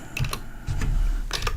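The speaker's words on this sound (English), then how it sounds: "If I could type, that would help." Typing on a computer keyboard while filling in an S corporation tax return form in software: short bursts of close keystroke clicks, with a pause in between.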